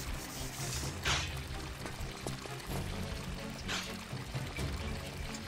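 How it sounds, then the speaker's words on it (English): Water pours between containers in Tomb Raider 4 with a couple of brief splashing gushes over a steady game music and ambience bed. "combine full small with empty large. Gives us 3 litres into that one."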